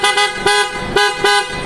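PIAA horns fitted to an Isuzu D-Max blast in a quick run of short, loud, high-pitched toots, each followed by a brief gap. The horns sound close and alone.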